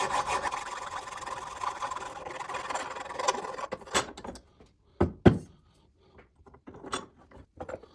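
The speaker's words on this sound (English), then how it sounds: "so I'm gonna file it down" A hand file rasps across the freshly cut edge of a motorcycle handlebar on a KLX 140 dirt bike, continuous close scraping that stops partway, followed by a few scattered knocks and clatters.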